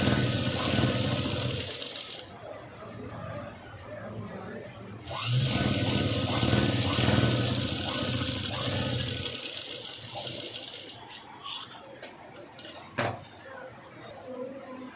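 A sewing machine stitches through fabric and its lining in a few bursts, a steady mechanical whir running up close with pauses and handling noises between runs.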